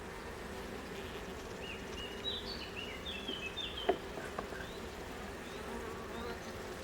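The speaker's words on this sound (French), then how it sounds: "Donc là, je me retrouve avec quelques abeilles." Honeybees buzz faintly around an opened hive with a weakened, queenless colony, a soft steady drone with scattered brief chirps from nearby birds in the background.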